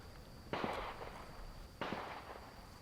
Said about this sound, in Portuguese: Não sei se vocês conseguem ouvir no fundo barulho de tiro.